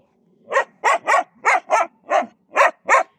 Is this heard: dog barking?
yes